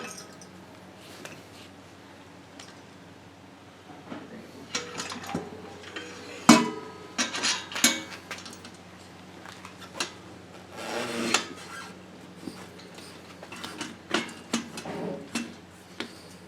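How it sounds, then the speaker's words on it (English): A motorcycle tire is worked off its rim bead on a manual tire changer for a Honda CRF250L, giving scattered creaks, clunks and metallic knocks, close and fairly quiet, with a sharp bang partway through. "we'll pull this tire off the rim"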